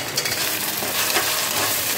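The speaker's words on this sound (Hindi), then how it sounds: "गार्लिक है सिंपल गार्लिक और हरी मिर्च ये भी डाल देता हूँ।" Garlic and green chili frying with paste in a pan for a home-style fish curry, a dense steady sizzle with brief stirring scrapes and no voices.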